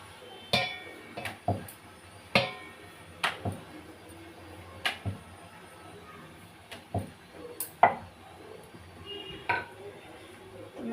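Kitchen clatter while puri is being made at home: a dozen sharp clinks and knocks of steel utensils, dishes and pans, irregularly spaced and fairly close, with quiet background between.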